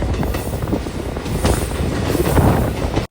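The Venkatadri Express rolls out of Chittoor station with a loud, continuous rumble of wheels and carriages and a steady rattling roar throughout.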